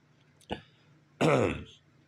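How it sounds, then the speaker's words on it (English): A short throat sound is followed by one rough, breathy cough, close and clear against near silence. "I got a cough."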